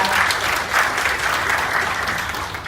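A loud, dense round of applause welcomes arriving guests at a partnership ceremony at a shopping mall, with a large crowd clapping continuously and slightly fading near the end.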